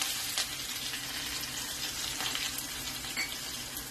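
Chopped green chillies and curry leaves crackling in a mustard-seed tempering in hot oil, a continuous dense sizzle, moderately quiet and close, with occasional sharper pops.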